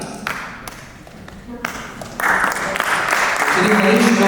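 Applause for a speaker at a ceremony, starting with a few scattered claps and swelling into louder, sustained clapping from an audience in a hall.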